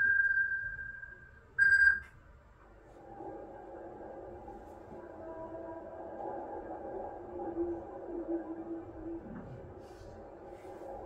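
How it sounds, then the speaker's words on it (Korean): Whale vocalization recorded underwater: a steady tone that ends with a brief loud burst, then long, low, droning moans that rise and fall, sustained and echoing throughout. "이 소리의 정체는 바로 고래의 울음소리였다고 합니다"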